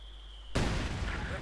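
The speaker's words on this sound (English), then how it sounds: "Further heavy mortar fire forces the MD42 out of the church" Heavy mortar fire in the World War II strategy game Company of Heroes 2, one sudden loud blast midway followed by rumbling debris and battle noise, with a voice talking.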